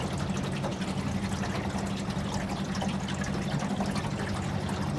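A hidden waterfall on Lake Livingston in the East Texas piney woods pours steadily, a dense continuous rush of falling water with no pauses and no voices.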